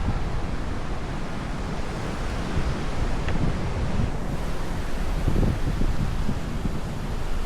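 Choppy ocean surf breaks steadily along a beach, a continuous wash of waves mixed with gusting wind buffeting the microphone, with no voices.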